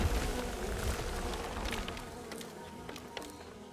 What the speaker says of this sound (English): Oh, and bees.